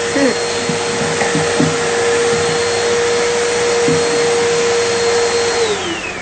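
A vacuum cleaner sucks debris out of a drawer with a loud, continuous whirring drone that holds steady throughout, broken by a few faint knocks and clatters as the nozzle bumps around.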